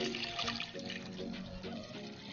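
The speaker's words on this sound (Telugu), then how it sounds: "ఈ వెన్నని నేను రెండు సార్లు కడుక్కుంటున్నాను మంచిగా వాటర్ వేసి" Water splashes over freshly churned butter being washed in a container for ghee, a soft continuous swishing and trickle heard close and faint.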